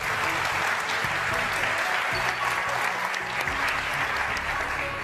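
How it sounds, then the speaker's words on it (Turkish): Audience applause in a TV word game show studio on New Year's, a dense, loud, continuous wash of clapping with faint talk and music underneath. "Alkışlar sizin için Erdem abi."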